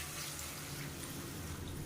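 Hot water pours steadily into a pressure cooker holding vegetables, a faint, continuous splashing gush with no voices over it.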